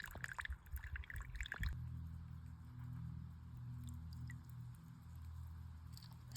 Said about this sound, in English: make a ultralight carbon fiber water spout for trickling springs like this